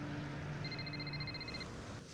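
Telephone ringing in a TV drama scene, a single burst of rapid electronic trilling lasting about a second over a low hum of background sound.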